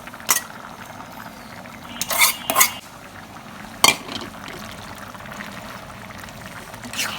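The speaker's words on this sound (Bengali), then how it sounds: "এখন মুসুর ডালটা দিয়ে দিতেছি" Soaked red lentils are tipped into a cooking pot, giving a few sharp pot clanks and a short pour and splash, close by, over a quiet simmer.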